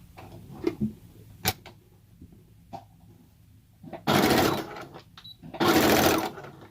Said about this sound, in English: For right now, we're doing a straight stitch just to secure the elastic